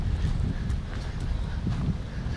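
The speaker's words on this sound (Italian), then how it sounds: "c'è tanto vento, un vento strano" Strong wind rushes through a forest, a steady low roar buffeting the microphone close up with faint rustling on top, continuous for the whole moment.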